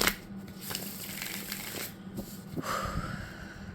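Soft matte linen-finish oracle cards shuffle close by in quick riffling bursts, a papery flutter with light taps and pauses, heard alone without talk.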